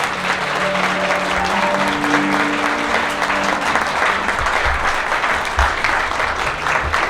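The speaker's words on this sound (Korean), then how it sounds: "신랑 신부 우리 하객 여러분께 인사 큰 박수 부탁드리겠습니다." Wedding guests applaud steadily and loudly in a wedding hall, dense clapping filling the whole stretch, with a faint musical tone under it at the start.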